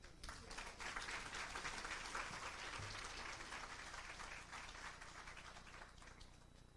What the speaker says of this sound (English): You got to clap a little louder for that right there.